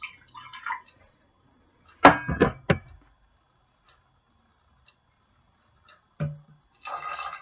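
Water poured into a measuring cup in a home kitchen while making a raw vegan chocolate cake: a few short splashing pours, then a pause, one more brief pour and a last trickle, close and fairly quiet.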